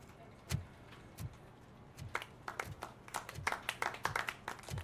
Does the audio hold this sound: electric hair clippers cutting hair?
no